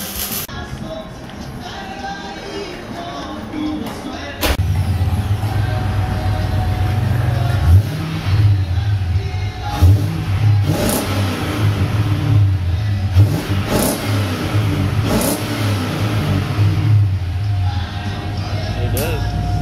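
A car engine revs repeatedly with a deep rumble through a freshly installed exhaust, stepping up in loudness partway through and continuing in bursts, with people talking nearby.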